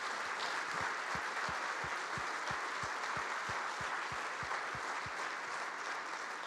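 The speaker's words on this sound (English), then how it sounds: "Can we please have another round of applause for our amazing panel and speaker?" Steady applause from an evening community event audience for a panel and speaker, an even wash of many hands with a regular rhythmic low thump pulsing underneath.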